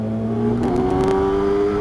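Kawasaki ZX10R sport motorcycle engine revving close up, a steady loud drone that rises slightly in pitch partway through, with no voices over it.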